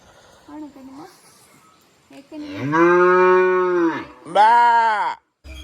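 A cow lets out two long, loud moos close by, the second shorter, after some quiet background voices.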